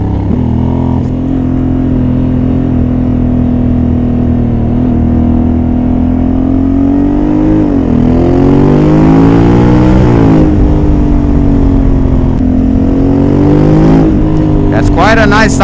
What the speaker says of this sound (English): Quite a nice sound for the stock exhaust.